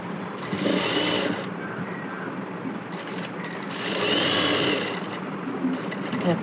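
A sewing machine stitching the side seam of a blouse runs steadily and fast with a whirring, rattling drone. It briefly eases off and then speeds up again, and no voices are heard over the motor.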